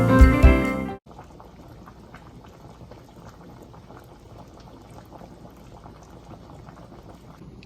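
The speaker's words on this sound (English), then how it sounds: "Okay, so the boiled cabbage is finally done." Cabbage simmers in a pot of boiling water, a low, steady bubbling that runs throughout after a brief loud burst of sound at the very start.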